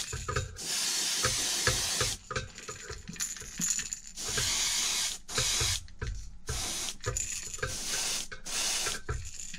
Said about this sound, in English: I did spray a second coat of silver to get it exactly the color I wanted